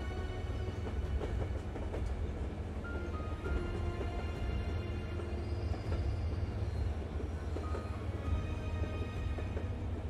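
A train rolls steadily along rails in the Zompiercer zombie survival video game, a continuous loud rumble with faint rhythmic wheel clatter and occasional metallic squeals throughout.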